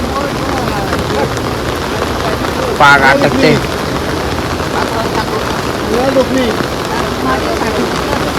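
Heavy rain pours over a flooded creek where boats are worked, a dense, steady hiss filling the whole stretch while people speak close by over it.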